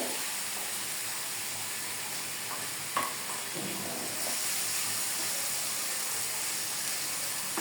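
Oil added to a hot pan while cooking peas ghugni, a steady broad sizzle and hiss that carries on evenly, with a brief clatter partway through.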